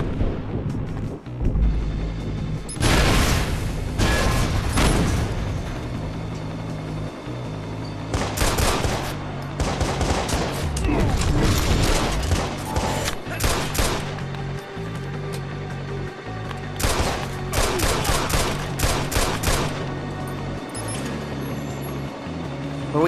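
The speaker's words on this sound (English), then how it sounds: "Stop shooting me!" Rapid gunfire in the Watch Dogs video game: repeated bursts of automatic shots and single cracks in loud clusters, with short pauses between volleys and mechanical clatter.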